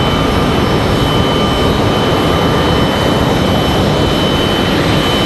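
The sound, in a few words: American Airlines Boeing 737 Max 8 jet engines on runway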